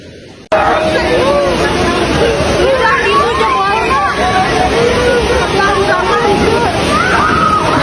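Loud, steady rush of flash-flood water in Bogor, Indonesia, near a golf course at the foot of Mount Salak, roaring and sloshing up close while people shout and talk over it.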